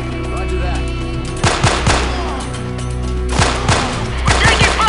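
Rapid automatic gunfire in the video game Delta Force: Black Hawk Down, in loud, close bursts of sharp cracks that start and stop across several seconds over a steady background of game ambience.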